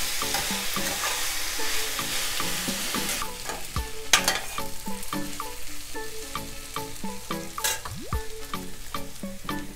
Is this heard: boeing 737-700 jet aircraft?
no